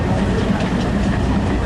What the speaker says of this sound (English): the old Dartmouth Paignton steam train going up the right-hand side there.